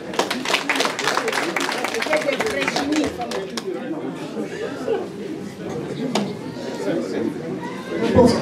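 A crowd at a party investiture ceremony in Nanterre claps and cheers continuously, a dense wash of applause mixed with chatter and voices throughout, steady and fairly loud.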